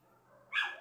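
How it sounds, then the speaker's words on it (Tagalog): Dogs outside give a single short bark near the end, faint and some way off, after a stretch of quiet room tone. "Ay, may mga aso sa labas."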